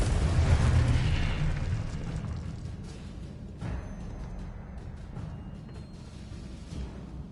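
A Confringo fire spell explodes in the Hogwarts Legacy video game: a deep rumbling blast at the start that slowly decays into a long, dull roar, with a smaller thud partway through.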